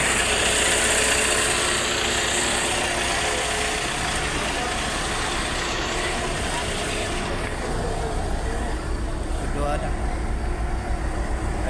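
A 2009 Mitsubishi Strada pickup engine idles steadily with a low power and check engine fault, a continuous close rumble with a loud hiss that lasts throughout, while people talk over it.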